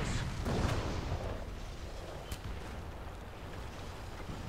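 Tank cannon fire in the War Thunder video game, during a tank battle with a Panzer IV/70 (V): one heavy booming shot near the start with a rumbling tail, then a sharper report later, over steady low engine rumble.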